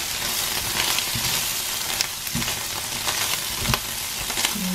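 Pad Thai with spring onion stir-frying in a pan, a continuous bright sizzle with intermittent scrapes and stirring knocks, close and alone.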